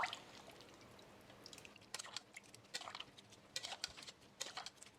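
Seasoned water that vegetables had soaked in is poured into a soup pot, giving faint, close trickling and dripping with small splashes and no talk.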